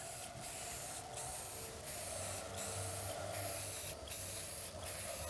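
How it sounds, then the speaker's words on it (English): An aerosol spray paint can sprays outdoors, a steady close hiss in several long bursts separated by brief pauses, with low traffic rumble behind. "Get back here to where your paint is spraying that way."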